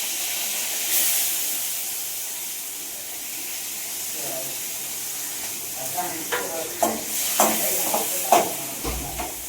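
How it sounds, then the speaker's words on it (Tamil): Mustard seeds sizzling in hot oil in a Tamil home kitchen, a steady hiss followed by a run of sharp popping crackles growing denser toward the end, close up. "எண்ணெய் ஊற்றி கடுகு போட்டாச்சு"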